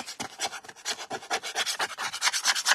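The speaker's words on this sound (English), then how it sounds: "I'm also going to take a little bit of sandpaper." Rapid back-and-forth rubbing on a wooden shabby chic Valentine's Day craft piece, a steady rasping scrape repeated in quick strokes, close and fairly loud, with no talking.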